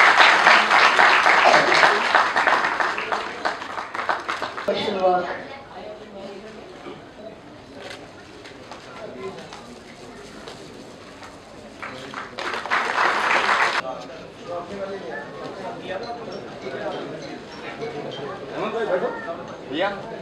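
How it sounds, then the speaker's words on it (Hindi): Applause from an award ceremony audience for a foundation president, bursts of crowd clapping at the start and again midway, between stretches of talking and chatter. "जोरदार तालियां एक बार गोपेश्वर जी के लिए।"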